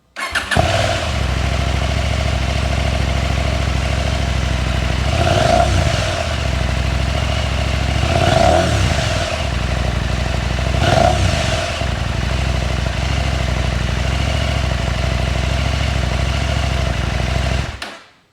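A 2024 Husqvarna Norden 901 Expedition idles steadily through its stock muffler with a deep rumbling exhaust, close and loud, with a few brief throttle blips partway through.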